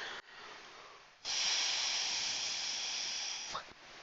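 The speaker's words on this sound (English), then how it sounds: "and now I'm gonna blow." Breath blown onto wet alcohol ink mixed with silver mixative makes a steady, close airy hiss lasting a few seconds after a short pause, then dropping away abruptly.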